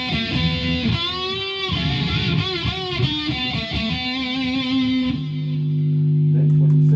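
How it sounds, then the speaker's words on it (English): Distorted electric guitar through a Behringer Vtone amp switched by a Behringer FCB1010 foot controller: loud, gritty picked notes and chords, then a held chord ringing out steadily for the last couple of seconds. "but I've still got my distortion"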